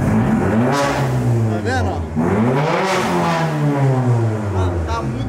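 A Mercedes car engine idles and revs loudly up close, its pitch rising and falling in steady waves throughout, with someone talking over it.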